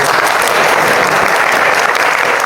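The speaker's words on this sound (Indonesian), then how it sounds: "Tepuk tangan buat Rehan" A large audience gives steady, dense applause for a young participant named Rehan at a public talk, loud and continuous throughout with no voices standing out.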